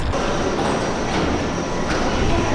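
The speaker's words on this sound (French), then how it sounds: "Non, on est dans le métro, on prend nos tickets." Metro train running underground, a steady loud rumble and rushing roar with faint squeals, continuous throughout and no audible talk.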